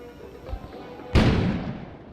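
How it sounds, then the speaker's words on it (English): One sudden, loud explosion in the video game Kona bursts out of a low background rumble amid a snowstorm, then its roar decays slowly over the next second. "An explosion suddenly occurred outside."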